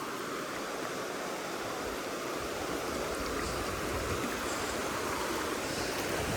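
Swift, cold stream running high and fast with a strong current after monsoon flooding in Arizona, a steady broadband rushing roar close by, unbroken and fairly loud throughout with no voices.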